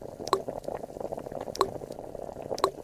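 Vegetable soup cooking in a pot in a children's video game, a soft looping bubble of simmering liquid with three distinct plopping blips spaced about a second apart.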